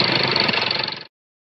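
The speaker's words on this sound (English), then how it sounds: "Tractor." A brief burst of a tractor engine in a children's puzzle game, steady and rumbling with a slight pulsing rhythm, lasting about a second before stopping abruptly.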